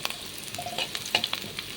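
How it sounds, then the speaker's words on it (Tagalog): Garlic and onion sautéing in hot cooking oil for a vegetable dish, a soft steady sizzle with light stirring clinks and scrapes throughout. "Gisa na natin sa ahos at sibuyas."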